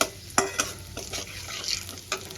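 Whole-spice tempering with green chillies sizzles in oil in a pan, a steady crackling fry broken by a few sharp scrapes and clinks of a spoon stirring against the metal.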